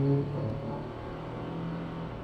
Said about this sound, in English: A bunch of noisy vehicles there.